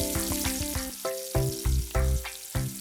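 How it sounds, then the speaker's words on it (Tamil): Grated carrots frying in hot Amul ghee in a heavy pan, a steady close crackling sizzle with some rhythmic scraping strokes layered over it, no voices. "நெய் சூடானதும் அதில் சீவி வைத்திருக்கும் கேரட் சீவல்களை சேர்த்து"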